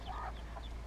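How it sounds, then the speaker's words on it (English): Soft, quick clucks from silkie chickens sound close by over a low steady hum, a few short calls in about a second. "There's a silky hen and a silky rooster"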